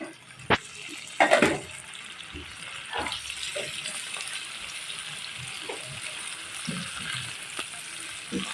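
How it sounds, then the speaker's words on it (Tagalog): Chicken pieces fry in oil, sizzling quietly and steadily in a pan, a soft hiss broken by a few sharper clatters and taps of utensils. "Prito-prito po natin ang manok."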